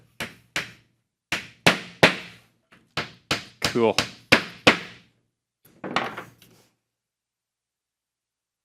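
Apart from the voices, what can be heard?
hammering while assembling a wooden bench dustpan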